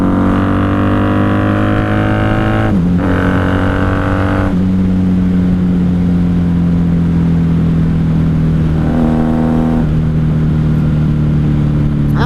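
A 1994 Honda Magna 750 motorcycle engine revs hard and loud from the rider's position, a strong droning tone that climbs through gear changes with brief dips between shifts, over steady wind rush and no talking.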